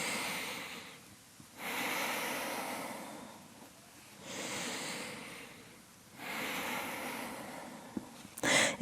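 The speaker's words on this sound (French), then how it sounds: "Essayez d'accélérer un tout petit peu vos respirations pour vraiment aller chercher jusqu'au bout à chaque fois." Slow, deep breathing during a relaxation exercise, about four long airy breaths in a steady rhythm, close and fairly quiet.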